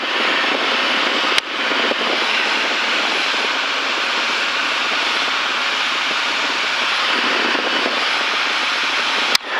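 A white Cirrus light aircraft drones steadily in the cockpit during approach to runway 04 right, its engine a loud, constant broadband roar with a brief click near the start and end.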